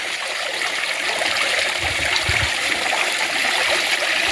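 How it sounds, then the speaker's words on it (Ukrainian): Water trickles steadily over stones in a garden rock-garden fountain, a continuous close splashing babble with no talk over it. "Як гарно збігає по камінчиках вода."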